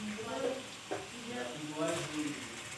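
Spices frying and being stirred in a pan for Assamese chicken curry with potatoes, a steady close sizzle with a few scraping stirs, while a voice talks over it.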